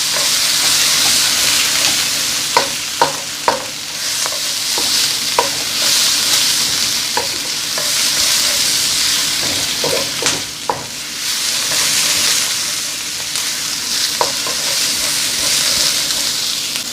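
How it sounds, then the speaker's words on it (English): Beef and vegetables sauté in a stir-fry pan, a steady loud sizzle running throughout with scattered scrapes and clicks from stirring. "And we're just sauteing this for about 5 minutes."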